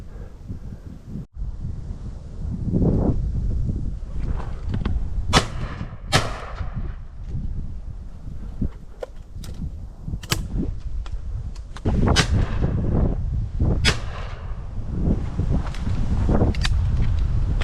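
Shotgun shots ring out over a field while decoying pigeons for crop protection, several sharp cracks spread across steady gusting wind noise and rustling.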